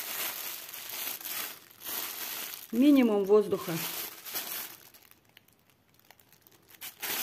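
Plastic freezer bags packed with wild garlic crinkle and rustle up close as they are handled and squeezed, under a voice speaking Russian.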